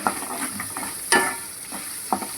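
Tempering spices and turmeric fry in oil for pulihora, giving a soft steady sizzle with light scraping stirs and a few sharper clinks of the spoon against the pan.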